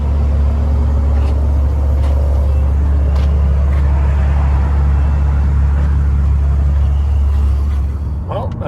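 A car with a 3.0t engine and a Hemi 80mm throttle body driving, a loud, steady low engine rumble with road noise, close inside the cabin, easing slightly at the end.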